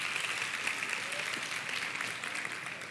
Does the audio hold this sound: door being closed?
no